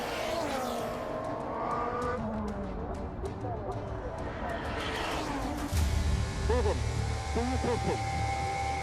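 Formula 1 race car engine in the F1 23 video game, racing through the Tamburello section at Imola, a steady high-revving drone with shifting pitch and sharper tones near the end as a commentator talks over it.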